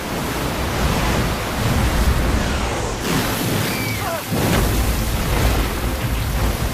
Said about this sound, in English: the rain was upon the earth